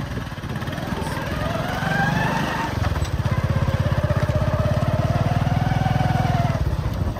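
A motorcycle engine runs close by, first a rough idle, then a steady, rapid pulsing throb after a few seconds, loud and continuous with faint wind in the background.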